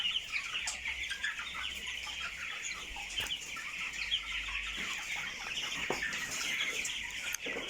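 Broiler chickens about 21 days old on a farm give a constant chorus of soft clucks and chirps, many birds close by, moderately loud and unbroken with no talking.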